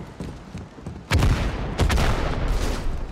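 Enemy rockets hit in a multiplayer shooter video game: faint crackling shots, then a loud booming impact and rumbling blasts that keep roaring under a second explosion.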